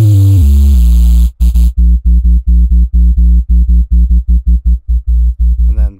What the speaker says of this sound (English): white noise,